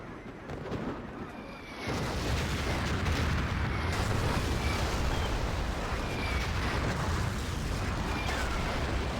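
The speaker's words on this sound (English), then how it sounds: "Artillery from the Chinese side gonna land." Artillery shells land in Battlefield 2 during a large competitive match, a sudden loud booming onset around two seconds that settles into sustained rumbling blasts and battle noise.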